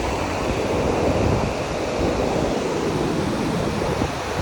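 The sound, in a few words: ocean waves breaking on beach at night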